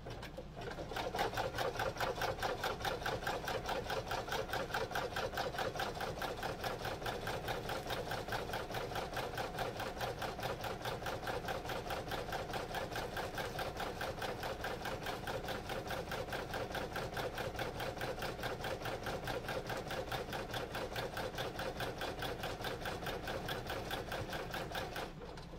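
Rapid, steady mechanical clatter of an embroidery machine stitching an in-the-hoop notebook cover, a fast even rhythm running continuously at moderate, close level.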